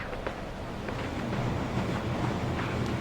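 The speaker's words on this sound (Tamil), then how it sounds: "இந்த காற்று ரொம்ப பலமாக இருக்குது" Strong wind rushes steadily in the video game Limbo, a broad, unbroken roar with faint gusty flutters and no voices.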